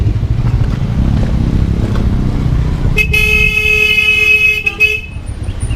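A vehicle horn blares loudly and close on a narrow muddy road, one sustained toot lasting about two seconds over a rumbling engine drone, then cutting off as the motor noise continues.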